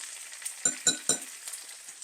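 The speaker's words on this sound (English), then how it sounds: "Excuse me while I beat my eggs." Eggs are beaten in a bowl, with three quick, light clicking taps of the whisk in a row over a faint background.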